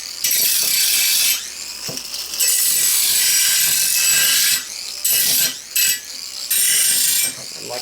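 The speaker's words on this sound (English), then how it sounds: "Now I'm just going to do a little fine-tuning grinding, get these areas a little soft so they're not going to be sharp" A light-duty grinder smoothing the sharp edges of a steel ingot mold, its loud steady whine running in long passes broken by brief pauses, close and continuous with no talking.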